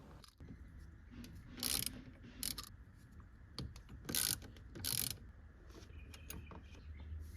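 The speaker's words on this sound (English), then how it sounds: "First, remove these 3 8mm bolts" A ratchet backs out three 8 mm bolts from a metal cover over the tilt steering wheel motor gear on a Lexus SC 300/SC 400, with several short bursts of rapid clicking separated by pauses, close and clear.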